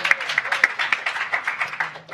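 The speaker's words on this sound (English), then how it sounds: "You clap for that." Audience at a political talk clapping in a quick, uneven rhythm of distinct claps, moderately close and somewhat thin, with voices faintly present underneath throughout.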